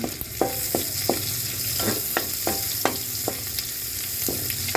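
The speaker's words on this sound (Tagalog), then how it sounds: "magigisa na tayo ng bawang" Garlic sautéing in a pan for adobong karne with sitaw, a steady close sizzle broken by a regular series of sharp spatula scrapes and taps, with no talking.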